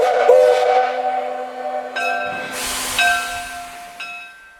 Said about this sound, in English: At 2 p.m. sharp, number 6 gets the train in motion.